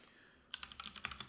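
Quick bursts of computer keyboard typing, about a dozen close, crisp key clicks in an irregular rhythm after a brief quiet start, with no voices.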